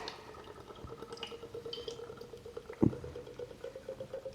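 Murphy's Irish Stout pours from a widget can into a glass, a soft, close gurgling and dripping stream with a faint rhythmic glug and one brief louder splash near the middle.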